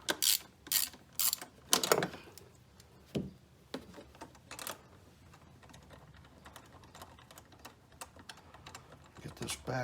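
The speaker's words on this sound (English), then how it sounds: "we're going to remove the two nuts that hold this plastic piece on here" A ratchet wrench clicks in quick bursts while backing off 10 mm nuts on a Predator 3500 inverter generator, loud and close at first, then fading to faint scattered clicks and handling noises.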